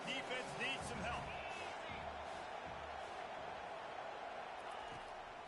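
Stadium crowd at a football game rising up and cheering, a dense continuous roar with whoops and an announcer's voice over the top early on.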